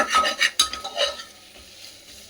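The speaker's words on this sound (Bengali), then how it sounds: "একটুখানি কষিয়ে নিই।" Tomato masala being stirred and fried in a pan, with close, soft scraping strokes and a light sizzle for a couple of seconds, ending in a sharp utensil knock.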